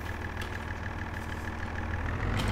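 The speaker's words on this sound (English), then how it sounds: "I suppose this is going to be the best tractor for the job." A tractor engine idles steadily in Farming Simulator 22, a constant low mechanical drone with a faint repeating tick, getting slightly louder toward the end.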